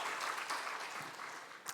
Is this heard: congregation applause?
yes